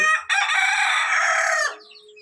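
A single rooster crows once, loud and near, a bright drawn-out cock-a-doodle-doo lasting over a second, preceded by a tiny clucking sound and fading into quiet.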